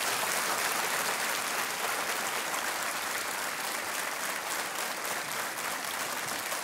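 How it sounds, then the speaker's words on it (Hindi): Studio audience on a TV quiz show bursts into steady, sustained applause, dense clapping filling the room at an even level throughout with no pause. "और तालियां बजती रहनी चाहिए"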